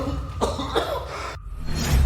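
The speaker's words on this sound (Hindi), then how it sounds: "बस कुछ शब्द और तुम ऐसे खांस रहे हो।" A man coughs in a few rough, throaty bursts, close up, with a short silent pause afterward before the noisy background returns.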